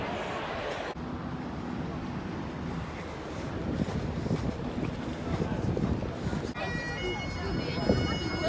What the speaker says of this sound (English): So we're on the boat, we're on the Thames.